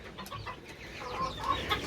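Chickens and young chicks cluck and peep in a backyard coop, a close, steady murmur of soft bird calls with brighter chirps rising near the end.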